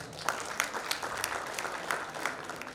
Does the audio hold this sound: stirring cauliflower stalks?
no